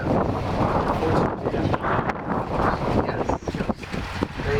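Strong wind blasts across the microphone at a windy outdoor glider-flying clinic, a steady broadband roar with gusty surges and dips throughout.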